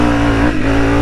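A Honda CRF300 motorcycle engine, running a 15-tooth front and 40-tooth rear sprocket, holds a loud, steady high rev through a wheelie, with a brief dip midway before pulling on again.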